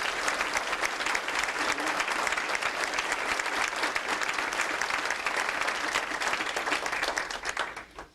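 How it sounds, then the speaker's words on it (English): Audience at a 1993 homecoming alumni breakfast applauding Sharon, a sustained, full round of clapping that stays loud for several seconds before tapering off at the end. "let's give Sharon a big hand of applause"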